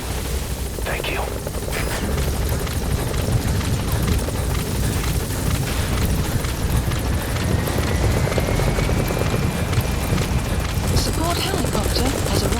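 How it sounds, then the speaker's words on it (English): A support helicopter in Metal Gear Solid V arrives with a continuous loud rotor roar filling the scene, joined by a rising whine and a few faint sharp cracks in the background. "Support helicopter has arrived."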